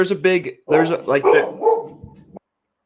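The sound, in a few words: dog barking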